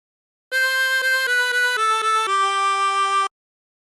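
La Cucaracha phrase on a 20-hole tremolo harmonica, a string of short reedy notes stepping downward in quick rhythm, ending on a longer held tone, clear and close with no voices.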